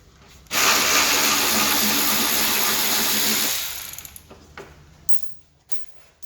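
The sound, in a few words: undoing a bolt on an Alfa Romeo Giulietta front bumper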